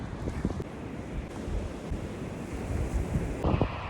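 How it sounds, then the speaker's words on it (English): Ocean waves wash on a shore with a broad continuous roar, mixed with wind buffeting the microphone and no speech. "And the ocean soothes my soul."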